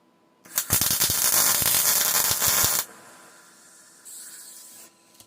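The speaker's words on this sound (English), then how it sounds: "Makes it a lot easier if you're welding vertically." Welding a steel antenna bracket with a horizontal weld: a crackling, hissing burst of a couple of seconds, followed by a quieter buzzing hum and a faint higher-pitched tone.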